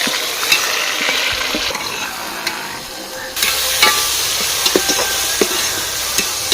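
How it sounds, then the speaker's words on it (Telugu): Green chillies, onions and tomatoes sizzle and fry in a pan, with steady close hissing and intermittent scraping clicks of stirring; the frying briefly softens then returns fuller midway. "పచ్చిమిరకాయలు ఉల్లిపాయలు బాగా వేగిన తర్వాత టమాటాలు వేసుకున్నాం కూడా బాగా మరగాలండి"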